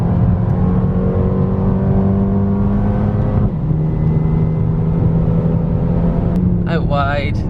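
An AMG car accelerating hard on a race track, its engine droning loudly and steadily with the pitch rising through the gears, while someone talks over it throughout.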